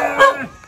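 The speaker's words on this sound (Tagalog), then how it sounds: "Yan, daming aso." A dog gives a single short, close, loud bark or yelp out in a rural farm setting, with no talking over it.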